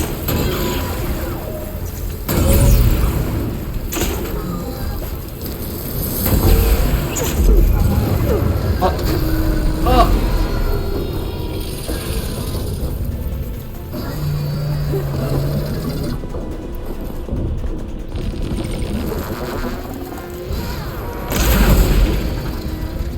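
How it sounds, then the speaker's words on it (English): A plasma explosion in the video game Horizon Forbidden West: heavy, booming blasts that swell and fade several times, mixed with dense, busy game noise. "Got plasma on me. It's gonna explode any second."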